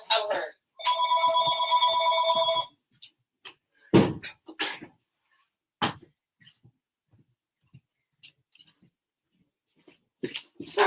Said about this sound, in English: today the phone's going to ring